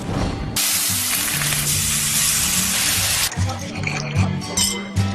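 Steaks sizzling on a hot summer grill, a loud continuous broadband hiss that starts abruptly and fills the first few seconds, then breaks into softer crackling pops under background sound.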